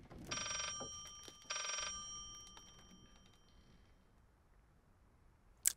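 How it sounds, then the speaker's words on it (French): A telephone rings in the horror video game Layers of Fear, two clear electronic bell bursts followed by a fading tail, then a brief sharp click at the end, with no speech. "Il y a toujours un téléphone qui sonne."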